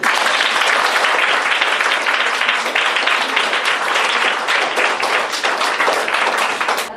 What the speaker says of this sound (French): est-ce qu'on peut acclamer très fort pour notre pays?